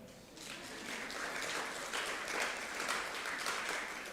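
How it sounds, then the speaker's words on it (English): Audience applause during a corporate full-year financial results presentation, a sustained, moderately quiet round of clapping that builds after the first half second and holds steadily. "I will pause and allow you to clap."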